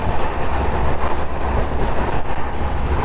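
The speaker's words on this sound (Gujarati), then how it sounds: "આવા રણની વચ્ચે આ એક ટ્રેન જાય છે, ડેઝર્ટ એક્સપ્રેસ" The Desert Express train runs through the Thar desert between Jodhpur and Jaisalmer, making a loud, steady rumble and rattle of wheels and carriages that fills the air continuously, heard up close with no talking.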